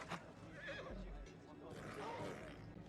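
A horse whinnies in the film The Revenant, a wavering neigh rising over muffled outdoor ambience while a narrator speaks over it.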